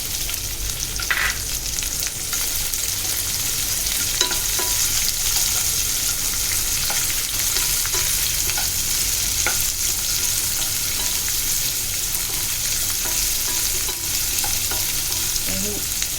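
Chopped onion sautéing in a pan with ginger for stuffed eggplant, a loud continuous hiss of frying with occasional stirring scrapes and clicks throughout.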